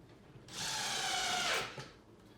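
A power drill drives a screw into a wooden bee hive box in one short burst, rising, whirring steadily for about a second, then winding down, close and fairly quiet.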